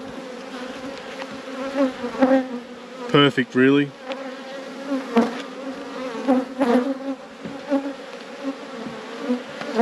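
Honey bees drone loudly and steadily around an open hive during a late-season inspection before winter, with sharper buzzes as individual bees pass near, and someone speaks briefly over the swarm.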